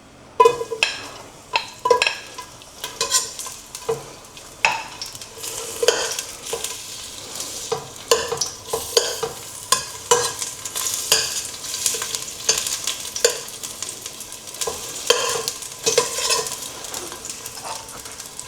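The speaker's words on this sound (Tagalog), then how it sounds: "So, guys, start na natin igisa ang ating bawang." Garlic sautéing in olive oil in a pan, with a steady sizzle broken by repeated sharp scrapes and clinks of a utensil stirring against the pan, close and busy throughout.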